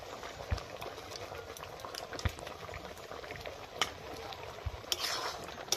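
Carrot halwa made with milk bubbles thickly in a pot, low soft blips and plops over a quiet simmering hiss, with a few knocks and clatters scattered through.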